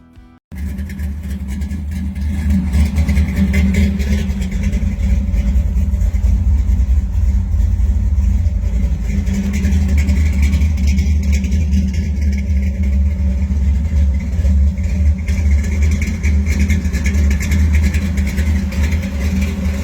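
A deep, rumbling supercharged 427-cubic-inch V8 car engine with a Hampton blower idles loudly and steadily, its heavy low throb holding with slight revving swells throughout, no voices present.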